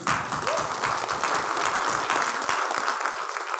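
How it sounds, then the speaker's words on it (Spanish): Audience applause welcoming a speaker at a church conference, a full steady round of clapping from a crowd that continues evenly for several seconds. "Un aplauso nuevamente."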